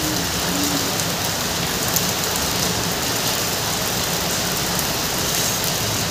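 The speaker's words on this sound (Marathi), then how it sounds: "बाहेर मस्त पाऊस सुरू आहे, तुम्हाला पावसाचा आवाजही येत असेल." Steady rain falling outside during the monsoon, a dense, even hiss of drops on surfaces that continues unbroken throughout, with a faint low rumble underneath.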